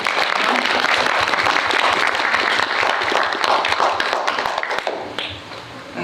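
An audience at a Korean film screening and cine-talk with the director and actors gives warm, dense applause that holds steady, then thins and fades toward the end.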